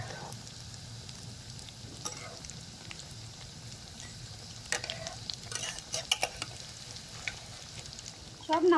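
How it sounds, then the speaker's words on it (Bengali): Potato and semolina snacks sizzle steadily in hot oil as they are turned over, with occasional scraping and clinks of a utensil against the pan and a louder stir at the end. "এবার আমি এগুলোকে উল্টে পাল্টে ভেজে নেব।"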